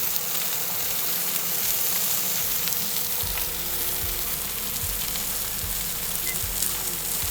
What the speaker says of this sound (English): We're gonna leave it on the griddle for about 2 to 3 minutes before we flip it over.